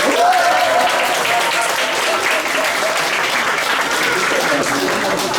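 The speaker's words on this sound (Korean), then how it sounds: "우리 조미영 자매 우리 기도했는데 다시 한번 큰 박수를 해주실까요?" Sunday worship congregation clapping loudly and continuously in a dense, even wash of applause, with voices under it.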